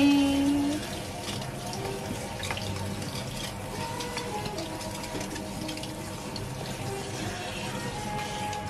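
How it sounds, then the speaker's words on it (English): Steady running water from a tap splashing as conditioner is rinsed out of a curly human-hair wig, a continuous close wash of sound with no talking. "so I'm trying to wash, rinse the conditioner and everything"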